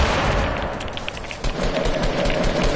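Video game gunfire in a busy battle-royale match, a dense continuous rattle of rapid shots and crackling bursts, loud and close throughout with no pauses, mixed with distant firing.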